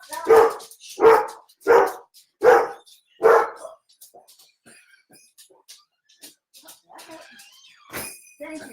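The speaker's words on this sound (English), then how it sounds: "Very responsible dogs." Dogs bark loudly indoors, five deep barks at an even, spaced rhythm, then give way to quiet shuffling and faint rustling with a few soft noises.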